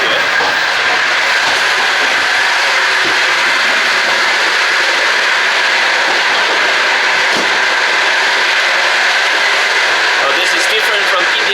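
Onboard a Soviet-era passenger train crossing Kazakhstan, a loud, steady rushing rumble and hiss fills the carriage, with occasional faint clicks and knocks throughout and no talking.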